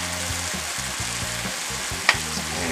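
Chicken for fajitas cooking in a pan, a constant close sizzle and crackle running throughout with one sharp click partway, no voices.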